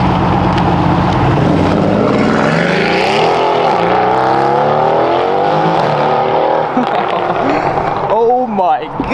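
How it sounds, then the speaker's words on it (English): Loud, close engine roar from a 900 hp Mercedes-AMG GT R, revving and sweeping up and down in pitch for several seconds before dropping off sharply at the end. "Oh my gosh, that car is so loud."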